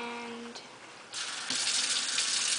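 Water from a tap gushes into a cooking pan for mac and cheese, starting as a faint trickle and swelling into a loud, steady hissing pour that fills the rest of the moment.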